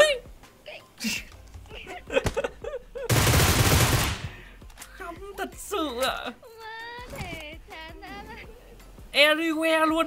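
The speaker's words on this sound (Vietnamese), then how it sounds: "vừa thấy một tiếng súng ở bên phải, xong lại có tiếng súng bên trái nữa." Gunfire in the mobile battle game PUBG Mobile, a dense burst of automatic shots lasting about a second amid excited, overlapping voices of players talking and exclaiming.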